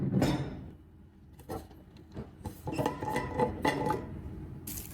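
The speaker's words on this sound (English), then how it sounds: "let's pack the jar." Boiled eggs, beets and onions being packed into a glass jar, with a cluster of clinks and knocks of glass and food against glass, short taps spread unevenly across the moment, close and fairly quiet.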